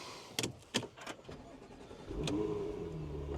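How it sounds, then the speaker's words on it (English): A few soft clicks, then a car engine cranks and catches, settling into a low, steady idle. Quiet and fairly close, with no talking. "If I just start the car"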